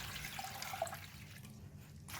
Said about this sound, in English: Immerse the pandan leaf in water to wash away the dirt and the sand stuck in between the pandan leaves.